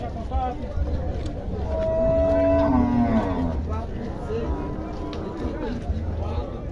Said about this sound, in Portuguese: Olha a vaca preta.